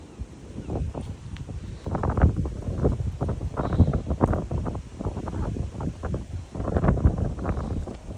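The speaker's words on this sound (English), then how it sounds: "Very, very blowy and windy." Strong gusty wind blowing outdoors in December, buffeting the microphone with heavy low rumbling surges that rise and fall throughout, loud and close, with no clear voices.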